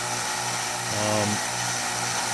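A Harbor Freight 1x30 belt sander with a 400-grit belt hums and whirs loudly and continuously while sharpening a knife, its tone dipping and roughening briefly as the blade presses against the belt.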